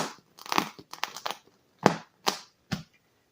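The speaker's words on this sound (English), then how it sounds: "make a small cut with a razor" Close, crackly slicing and tearing of a Chevy Suburban seat cover with a razor, a cluster of cuts followed by three short separate strokes, no voices.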